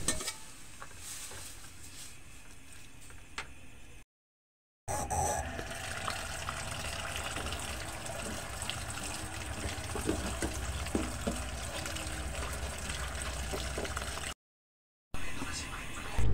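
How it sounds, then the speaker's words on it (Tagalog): Sautéed corn with onion and garlic boiling in a pan: bubbling water and a steady sizzle, with scraping stir sounds, near and continuous, interrupted twice by brief silences. "Pagkatapos ko ngang hugasan yung dahon ng ampalaya, aking niluluto ay kumukulo na."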